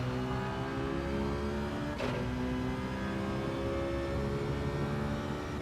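A race car engine in a racing video game pulls hard out of a slow corner, a loud, steady droning whine that climbs gradually, with a brief sharp click near the middle.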